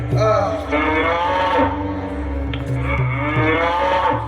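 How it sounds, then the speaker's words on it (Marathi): Bullocks bellowing on a farm, a pair of long, loud, low moos with strong harmonic tones that fill the whole stretch, close by and with no talk. "तिकडे बैल बोंबतात"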